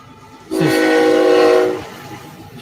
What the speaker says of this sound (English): Choo choo, the Sabina train.